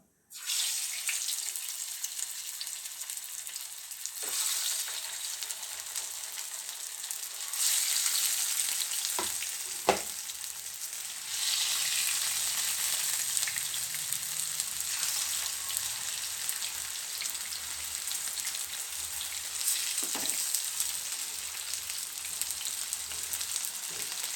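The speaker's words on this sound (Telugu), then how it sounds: "పండుగప్ప మసాలాలు బాగా పట్టి ఉన్నాయండి ఇది ఫ్రై చేస్తున్నాను" Barramundi coated in masala fries in a pan with a loud, continuous hiss that holds nearly throughout, broken by a few sharp clicks and brief shifts in intensity, close by and with no voices.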